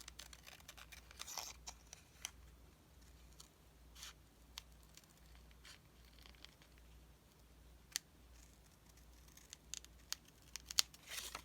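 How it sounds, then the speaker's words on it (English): Scissors trimming paper at a crafting table, scattered soft snips and crinkles spread through a quiet stretch, close but faint. "I'm going to take my scissors and kind of cut that"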